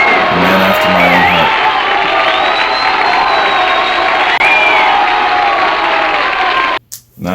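A large concert crowd cheers and whoops loudly at a performance, a continuous roar of shouts and applause with some voices rising above it, cutting out abruptly near the end.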